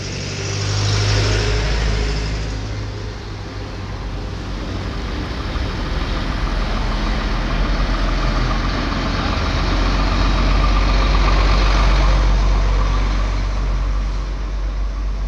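A convoy of trucks crawls slowly across the Limay river bridge, with loud, close diesel engines rumbling and idling, swelling gently as vehicles pass, and no voices.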